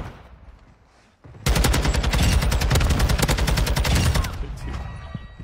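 A video game gun fires a long rapid burst of shots, loud and rhythmic, after a quiet lead-in and trailing off with softer scattered sounds.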